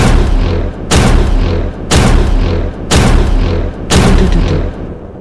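Sound effect for an audiobook of a tank's coaxial 7.62mm machine gun firing, rendered as four loud, heavy booming blasts about a second apart, each trailing off into rumbling echo.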